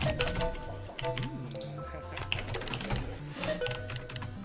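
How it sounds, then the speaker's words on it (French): Rapid, close clicking of a computer keyboard during play of the cooking game Cook Serve Delicious 2, keys clattering in dense bursts over faint background music. "C'est le pire jeu pour les bruits de clavier."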